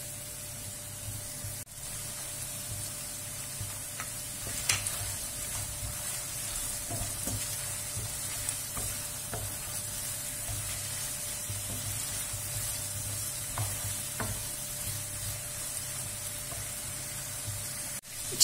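Lamb liver sautés in a pan with salt, cumin and chili flakes, a steady close sizzle with occasional light stirring clicks and no talking.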